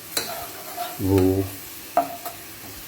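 Masala in a pan on the stove, loosened with water rinsed from a coconut bowl, is stirred and sizzles. A spoon scrapes in a few short bursts, with one louder stretch in the middle.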